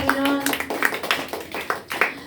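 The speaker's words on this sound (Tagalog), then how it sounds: "Palakpak paminsan sa ating Panginoon." A congregation claps in loose, rhythmic bursts at a Sunday church service, the claps fairly close and uneven, with a voice heard at the start.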